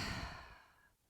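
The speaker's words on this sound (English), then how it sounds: "we're going to inhale twice through the nose, and then we're going to exhale a little bit longer out through the mouth" A breathing exercise: two quick inhales through the nose followed by a longer, slowly fading exhale out through the mouth, close and soft, with no other sounds.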